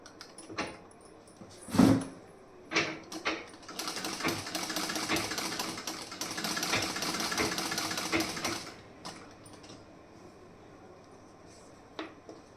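A sewing machine stitches a half-inch-folded shoulder seam on a garment, running in several short bursts and then one longer steady run of close mechanical chatter, with a few clicks and handling knocks around it.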